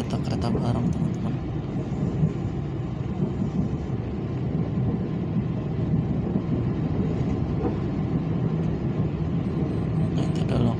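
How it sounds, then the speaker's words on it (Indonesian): A diesel freight train locomotive, number 24104, rumbles steadily at Ipoh station, a continuous low engine drone with mechanical hum that holds for the whole stretch, fairly close and unbroken. "itu ada lokomotif KA barang 24104 MT Saleh"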